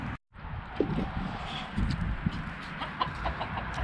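Several hens cluck softly nearby, scattered short clucks over a low outdoor rumble after a brief gap at the start.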